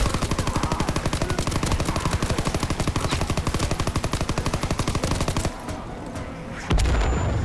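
Big guns in Call of Duty WWII Zombies fire loud, rapid sustained bursts that hammer on without pause, then cut off abruptly near the end, leaving quieter game noise.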